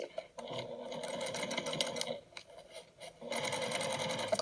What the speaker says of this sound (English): And now I'm going to stitch right on top of my previous stitching right down this line as far as I can go and then backstitch